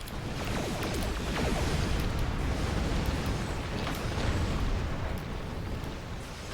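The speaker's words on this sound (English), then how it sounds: "Now I hear my guns firing." Warship guns fire in a naval battle video game, a dense, continuous roar of overlapping booms and blasts with crackling bursts, loud and sustained throughout.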